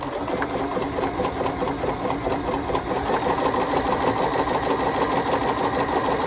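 Bernina Series 3 sewing machine stitching a buttonhole, a close, continuous rapid mechanical whirr with an even pulsing clatter that holds steady throughout, no talking.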